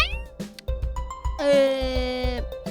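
Several cat meows rise over a synthesized music score with deep rhythmic pulses and a sustained bright chord, part of a horror video game; the meows are near and clear.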